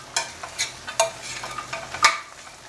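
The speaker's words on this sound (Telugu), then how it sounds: "ఇవన్నీ వేయించేసుకుంటామే" Chili powder, turmeric and curry spices fry in a pan with a soft sizzle while a spoon stirs and scrapes in several quick, regular strokes, close by and with no voices.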